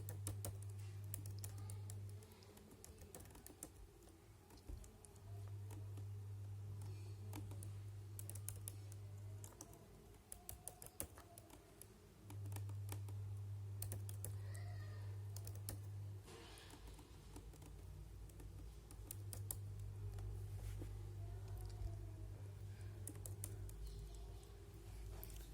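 Steady typing on a computer keyboard while filling dummy data into a table, soft rapid key clicks in bursts with short pauses, faint and close, no one speaking.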